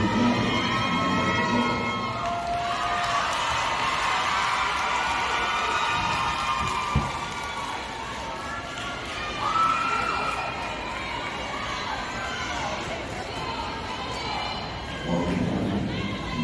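A crowd cheers and shouts continuously through a competition cheer team routine, loud and reverberant, with music and occasional thuds from the performers. Swells of cheering come and go throughout.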